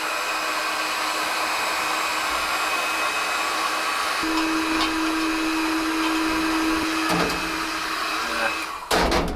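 Heat gun blowing hot air onto old paint on a vintage gas-powered air compressor, a steady loud broadband whoosh throughout with a brief tonal whine midway, ending in a few sharp clicks.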